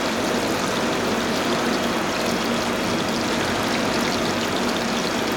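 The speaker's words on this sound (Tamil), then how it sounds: "நம்ம வச்சுருக்க சோயா சங்க்ஸை எடுத்து ஒன்றுன்னா போட வேண்டியதான். எண்ணெய் தெறிக்காமல் பார்த்து போடுங்க." Soya chunks fry in hot oil for a masala fry, giving a dense, steady crackling sizzle close up and constant without pauses.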